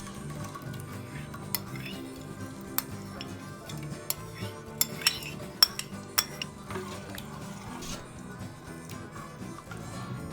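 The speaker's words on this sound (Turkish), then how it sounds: "yoğurdu pürüzsüz bir kıvam alana kadar karıştırıyoruz" A spoon clinks against a bowl while stirring yogurt until smooth for a beet soup, giving light irregular ticks and taps over a steady low kitchen hum, with a few sharper strikes in the middle.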